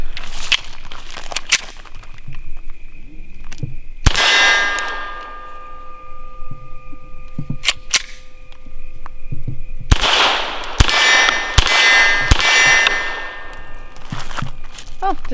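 A Walther PPQ 22lr pistol fires Aguila Super Extra standard velocity 40-grain lead rounds, sharp close shots spaced irregularly, with ringing metallic clangs from steel targets and quieter handling noises between.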